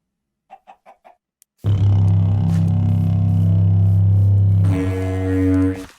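A Minecraft chicken gives four quick, soft clucks in near silence. A loud, steady droning tone then cuts in and holds to the end, shifting pitch partway through.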